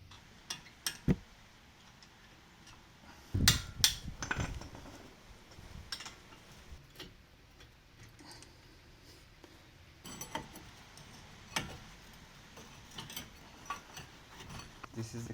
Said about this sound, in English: we're going to remove the caliper. So we're gonna take off this bolt right here and this other one right here.